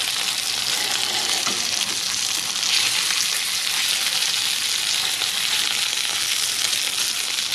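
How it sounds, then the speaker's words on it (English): A steak sears in a hot pan, giving a loud, dense, unbroken sizzle that holds evenly throughout with no voices. "That's about the sear we're looking for."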